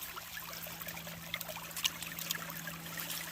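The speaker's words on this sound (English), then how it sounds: "I'm gonna have to run it about as fast as I can send it through the sluice" Water trickling and pouring steadily through a gold sluice box, a constant close wash with faint gravel ticks over a low hum.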